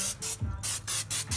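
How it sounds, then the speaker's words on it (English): Cooking butter spray hissing onto a smoked turkey from an electric smoker, in four or five short, close bursts with brief pauses between them. "Just a little bit of cooking butter spray, just to keep it moist, so it's not so dry."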